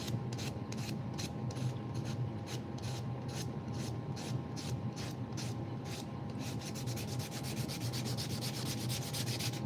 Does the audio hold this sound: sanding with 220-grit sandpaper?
yes